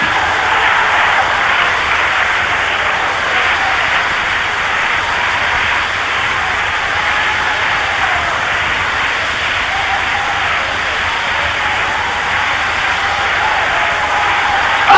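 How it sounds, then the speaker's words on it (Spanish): A congregation at a religious service gives a sustained, even round of applause, a dense unbroken wash of clapping lasting many seconds with no voices above it. "Denle un aplauso al Cristo de la gloria."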